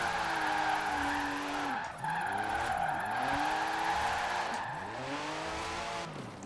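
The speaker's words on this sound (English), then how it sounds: "It is struggling a little bit to spin those rear wheels in third, unless I'm driving a bit faster." A car's rear wheels spin and squeal while drifting in Forza Horizon 4, an engine whining through rising and falling revs under repeated tire screeches, close and loud.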